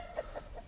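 A rooster near a lake clucks in a short burst of two or three quick, soft calls, close by and quiet.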